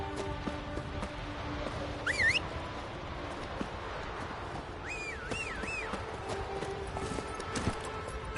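Roach the horse trots in a video game, a steady rhythmic clip-clop of hooves at moderate distance, joined by a few brief high whistling chirps.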